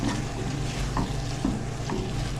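Fried daal mash (urad lentils) with garam masala being stirred in a pan, a steady low sizzle with a few soft spoon scrapes at a regular pace, close and continuous, no voices.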